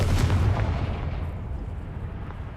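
A fiery Confringo spell explosion from Hogwarts Legacy bursts out loud and booming, with a heavy low rumble at the start that decays into a crackling tail over a couple of seconds.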